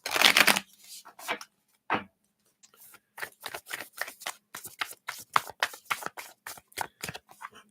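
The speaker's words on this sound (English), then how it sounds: "Just going to give this a little shuffle here." A deck of tarot cards is shuffled by hand, starting with a quick riffle burst, then a series of crisp, separate flicks and slaps in a loose, uneven rhythm, close and fairly quiet, with no talking.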